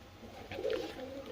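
A single soft, low pigeon coo rises briefly in the middle of a quiet background, close and fairly faint.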